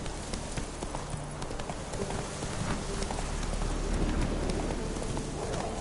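Hooves of the horse Roach clip-clopping in The Witcher 3, a rhythmic trot under a dense wash of rain, with a single short spoken word over it.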